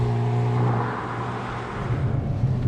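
A 2022 Hyundai Kona N with DCT gearbox drives along a damp road, its engine and exhaust giving a steady mid-pitched drone heard from inside the cabin, dipping briefly before rising again as the car accelerates.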